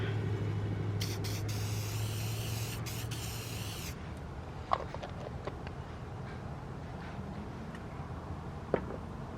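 An aerosol can of adhesive remover sprays onto car paint in a couple of short hissing bursts, followed by quieter handling sounds and a few faint clicks.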